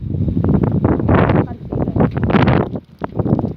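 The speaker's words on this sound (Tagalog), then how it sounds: "And the very strong wind." Very strong wind buffets a cyclist riding past a corn field, coming as loud irregular gusts and rumbling bursts of wind noise close on the microphone.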